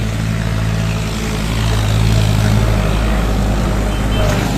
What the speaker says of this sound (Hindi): ये जो है ना ट्रैक्टर वगैरह इनका शोर बड़ा होता है यहाँ क्योंकि ये स्कूल साथ है ना